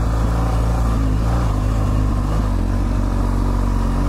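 A BMW GSA adventure motorcycle rides an off-road red rock trail, its engine droning loud and steady up close with slight pitch shifts as the throttle changes, along with clattering from the rough ground.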